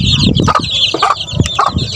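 Chickens cluck in short bursts while chicks peep steadily and high-pitched in the background, close by, with no talking.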